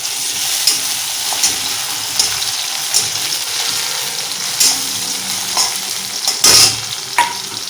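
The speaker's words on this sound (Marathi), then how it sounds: "मग आपण असा थोडा हा टोमॅटो टाकून घ्यायचा।" Okra frying and being stirred in a pan with garlic and tomato, a steady close sizzle broken by repeated scraping stirs and a few louder clatters, with no talking.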